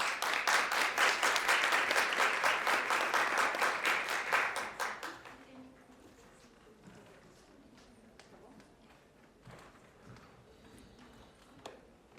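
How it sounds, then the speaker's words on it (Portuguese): Audience applause in a university lecture hall, dense clapping from a seated crowd for about five seconds before fading to quiet room noise. "Peço uma salva de palmas para vocês."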